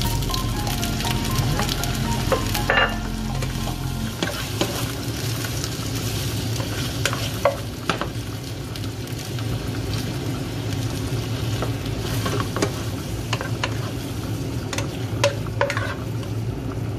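Seafood frying in olive oil in a hot pan for seafood spaghetti, a steady loud sizzle that runs throughout, with occasional stirring clatters and no talk.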